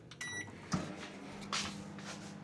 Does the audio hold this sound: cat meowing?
no